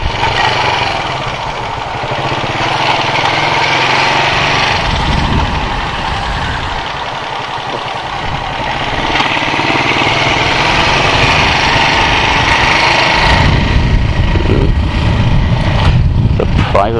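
A motorcycle engine runs steadily while riding, a loud continuous drone with rising and falling revs and wind rush, close to the microphone, with a person talking over it at times.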